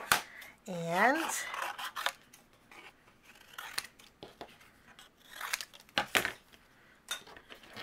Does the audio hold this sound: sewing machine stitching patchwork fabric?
no